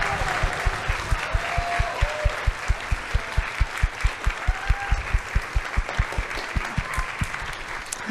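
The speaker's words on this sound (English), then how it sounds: "can we give them a round of applause?" A concert audience applauds high school seniors at a school pops concert with sustained, even clapping, one pair of hands tapping a prominent close rhythmic beat over the crowd.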